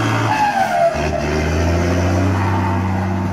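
Turbocharged engine of a machine cleaning rice field ditches, a loud sustained roar with a whining turbo tone that falls and then settles into a steady low drone, close and continuous.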